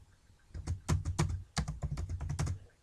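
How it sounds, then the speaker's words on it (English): Rapid typing on a computer keyboard, a dense run of sharp clicks in two bursts with a brief pause between, close and clear with no talking. "I'm going to type."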